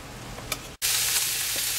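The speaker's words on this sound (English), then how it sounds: "We're gonna let this continue browning" Meat browning in a hot pan for a pumpkin dinner, a steady bright sizzle that cuts out for an instant and resumes at full strength, with a few light stirring clicks.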